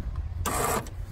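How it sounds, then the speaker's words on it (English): Hydraulic pump on a 1974 Citroën DS 23 Pallas converted to electric drive whirs up in a short, fairly loud mechanical burst over a low background hum, with no talking. "That's the pump."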